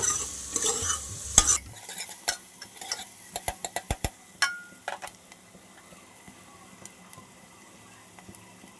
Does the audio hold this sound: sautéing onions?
yes